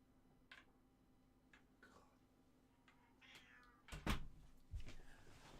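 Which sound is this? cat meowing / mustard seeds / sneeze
cat meowing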